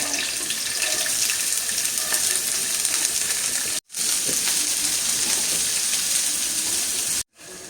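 Tap water runs steadily into a pot for preparing two packs of Indomie noodles, a continuous close splashing flow broken by two brief cutoffs.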